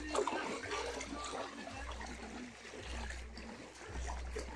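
River floodwater flowing over a submerged road, a faint steady wash and trickle with a low rumble of wind or handling, and little or no talk.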